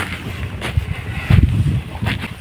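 Gusty wind blows steadily across an open island trail, rumbling and buffeting the microphone in uneven surges with no voices over it.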